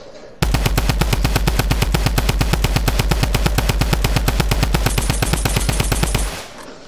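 Sustained automatic machine gun fire in the Fortnite video game, a rapid unbroken burst of shots lasting about six seconds, loud and close, cutting off abruptly.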